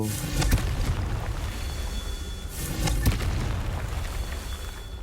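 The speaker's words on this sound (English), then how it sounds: "सब फुटेगा कॉन्फ्रिंगो से फुटेगा" Confringo spell explosions in Hogwarts Legacy, two sharp booming blasts about two and a half seconds apart, each trailing off into a rumbling background.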